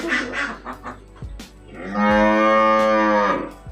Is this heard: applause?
no